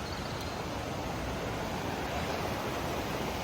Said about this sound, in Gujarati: બંને બાજુ પાણી જાય છે